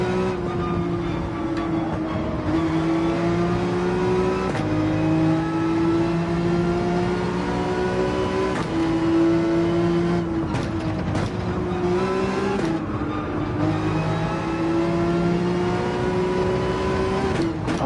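Porsche 911 engine in Gran Turismo 7 pulling hard out of corners at the Nürburgring Nordschleife, a steady loud harmonic drone rising in pitch through each gear with brief shift dips, no talk.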